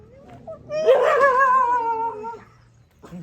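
A dog gives a drawn-out, high whining howl that rises, holds for over a second and fades, followed by a short faint whimper, close by in an otherwise quiet room.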